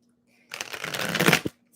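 A deck of tarot cards is shuffled briskly for about a second, a dense papery riffle following a short silence, close and fairly loud.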